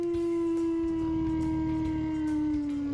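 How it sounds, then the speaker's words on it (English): Shadow wolves from a Minecraft Shadow World mod let out a long, steady howl, one loud sustained tone that slowly drops in pitch over a low background rumble. "apparently this guy spawns in these shadow wolves"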